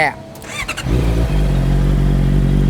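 A 2014 Honda CBR 650F motorcycle engine starts after a few clicks and settles into a steady, loud, close idle with a deep rumble. Someone talks near the start.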